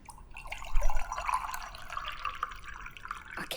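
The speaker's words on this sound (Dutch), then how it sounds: "Ik ga dan nu mijn glas vullen met water." Water from a tap runs into a glass in short, light splashes and trickles, close and fairly quiet, with no talking.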